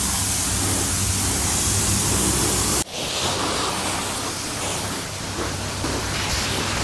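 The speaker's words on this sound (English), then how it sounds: "That Super Clean had a little bit of dwell time. Now we're just gonna rinse it off." A garden hose sprays water over a car to rinse off foamed Super Clean degreaser, a steady loud hiss of spray that cuts briefly and resumes with a slightly changed tone, with no talking.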